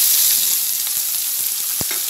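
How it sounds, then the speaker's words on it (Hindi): Minced meat sizzles in hot oil with onions already browned in the pan, a steady, dense frying hiss with a few sharp crackles and pops. No talking is heard. "देखिए हम प्याज ऐसे ऑयल में ब्राउन कर रहे हैं"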